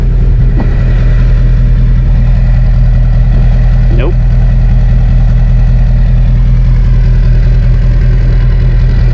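An LB7 Duramax diesel V8 idles steadily after a cylinder head install, its loud, even rumble running throughout at close range while someone speaks briefly over it.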